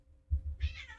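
A single short cat meow, close and fairly quiet, rising briefly after a low thump, with no talk over it.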